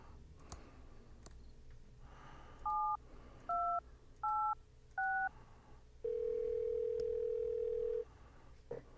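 A telephone in Thimbleweed Park, a radio station's phone system, gives a click, then four short touch-tone dialing beeps at an even pace, followed by a steady two-second tone over faint background hum.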